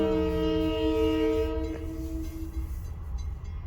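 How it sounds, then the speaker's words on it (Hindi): A train horn sounds a long, steady blast that fades as the train moves off, leaving a low rumble of rolling rail cars. "जब ये हॉर्न देता है ऐसे मतलब आगे कोई ना आए"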